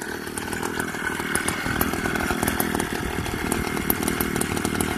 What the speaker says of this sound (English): So this is a bigger engine kit. This is the 80cc kit.